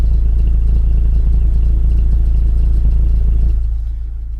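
A Mazda CX-3 GT idles with its exhaust valves closed, a loud steady low rumble close to the tailpipe that drops slightly in level near the end.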